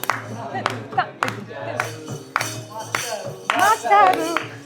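Audience members on a Telugu television show clap in a steady rhythm along with a song, with sung voices carrying over the beat.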